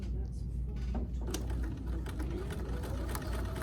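Sewing machine with a walking foot stitching quilted fabric for jar grippers, a steady close mechanical hum running throughout under a voice.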